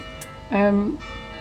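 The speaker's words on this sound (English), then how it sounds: "it's the bells again. Oh, this village." A village church bell sounds once, a brief ringing tone that stands out clearly over the low background hum of the room.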